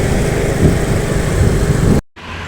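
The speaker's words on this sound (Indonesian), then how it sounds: "ini ada bus Universitas Sriwijaya ya, menuju kawasan Indralaya ini" Sriwijaya University bus passing on a road near Indralaya: a loud, continuous engine roar with broad road noise that cuts off abruptly, leaving quieter traffic behind.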